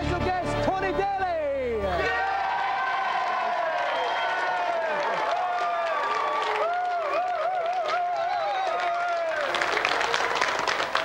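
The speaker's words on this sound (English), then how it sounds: "So let's have another round of applause for Ben McCluskey" Studio audience on a children's game show set applauding and cheering, a steady roar of clapping that runs the whole time beneath loud voices and music.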